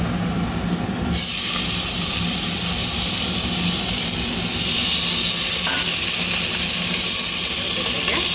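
Washed rice and moong dal hit hot ghee in a pan for khara pongal, bursting into a loud, dense sizzle about a second in that holds steady and strong to the end, with no talking.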